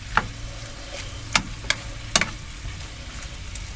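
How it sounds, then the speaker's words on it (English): Onions and tomatoes frying in oil in a pan, a steady soft sizzle close by, broken by a few sharp clicks and scrapes of stirring. "I am only frying these in oil"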